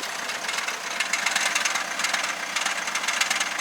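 A used car with a faulty DCT transmission, heard close up from inside the driver's-side wheel area, gives a dense, rapid metallic rattling and clattering over a running engine. The rattling stays continuous and fairly loud, with no talk.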